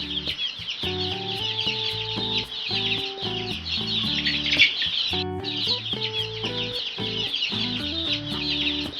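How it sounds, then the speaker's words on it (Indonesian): Chicken clucking in repeated short, close bursts over a light musical melody playing underneath. "Ayam."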